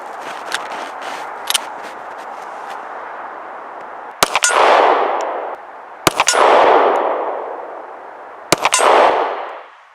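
An M&P Shield 2.0 pistol fires at steel targets outdoors. Faint, distant pops come first, then three loud, well-spaced shots, each followed at once by a bright clang that rings and fades over about a second.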